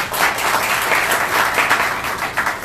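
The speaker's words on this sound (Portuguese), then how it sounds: "uma salva de palmas aqui pro Tavares" Applause for Tavares after a talk on running and quality of life, a room of listeners clapping steadily and fairly loud, a dense continuous patter with no gaps.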